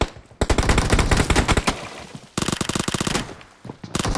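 An UZI submachine gun fires in a warehouse match of a shooting video game, rattling off loud rapid bursts with brief pauses between them.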